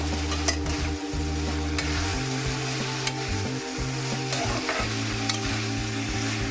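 Cleaned, unboiled dried fish for a Bengali shutki curry sizzle in hot oil with a dense, even frying hiss, a few light utensil clicks and a low steady hum beneath, with no talking.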